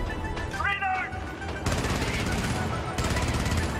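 Turret fire in the game Helldivers, heard as loud, steady rapid-fire machine-gun bursts over dense game noise, with a brief tonal chirp early on.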